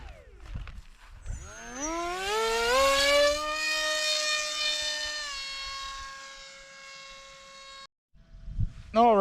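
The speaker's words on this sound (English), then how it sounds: "first motor, Emax 2212." An Emax 2212 brushless drone motor spins up on a test stand, its whine rising steeply in pitch then holding a strong, steady harmonic-rich tone for several seconds before cutting off abruptly, with brief handling noises at the start and end.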